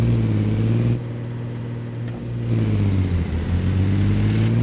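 A truck engine in American Truck Simulator runs loud and steady at close range, its low drone dipping briefly as the revs ease off, then climbing back up.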